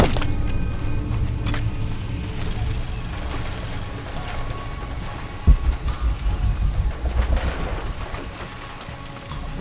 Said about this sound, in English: This rain is unreal.